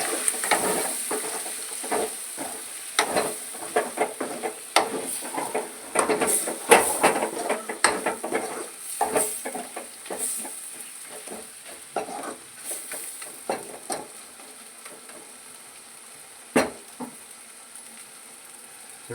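Chicken pieces stirred with spice powder in a pan, a spoon scraping and tossing in irregular bursts over a soft sizzle, busier early on and thinning toward the end.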